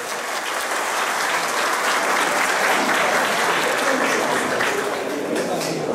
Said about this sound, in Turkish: Arkadaşlar kuvvetli bir alkış hak ediyoruz herhalde değil mi?